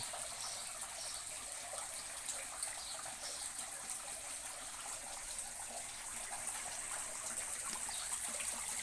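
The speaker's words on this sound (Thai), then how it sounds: "บรรยากาศน้ำตกนะครับ" Small garden waterfall at the corner of a house pours into a homemade koi pond, giving a steady, even rush of splashing water that runs continuously at moderate volume with no voices.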